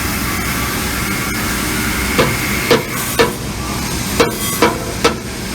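Several sharp metallic hammer taps ring out as a front bushing on a Highland Park lapidary saw is loosened, spaced irregularly over a steady mechanical hiss, close by with no speech.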